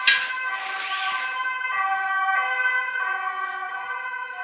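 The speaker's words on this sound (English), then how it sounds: "It's definitely worth a siren." A siren wails nearby, its tone shifting in steady cycles, loud and continuous with no talking.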